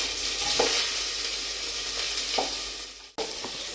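Mustard seeds, curry leaves and garlic sizzle steadily in hot oil for a tempering. A few soft stirring taps sound close up, with no talk.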